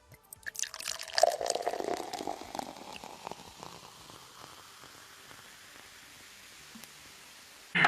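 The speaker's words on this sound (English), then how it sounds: "fill it up with water." Water running into an inflatable Intex PureSpa portable bubble massage hot tub, a close splashing gush that is strongest early on, then settles into a quieter, steady trickle and patter.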